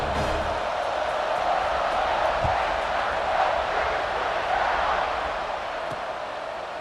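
Broad, continuous roar of a stadium crowd cheering before kickoff in a college football video game, loud and sustained throughout, easing slightly toward the end.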